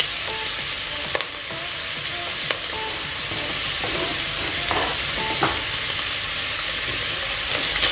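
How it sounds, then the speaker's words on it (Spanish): Mushrooms, onion and celery sauté in a pan with bacon, giving a continuous loud sizzle broken by a few spoon taps and stirring scrapes and no talking. "lo vamos a dejar sofreír"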